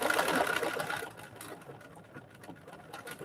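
A sewing machine doing free-motion stitching on raw-edge appliqué, a brisk mechanical whirr that runs loudest for about a second, then drops to softer, intermittent stitching.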